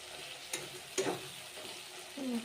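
A wet paste of cumin and turmeric fries in a pan, a faint, low sizzle with a couple of soft stirring clicks and a brief hiss near the end.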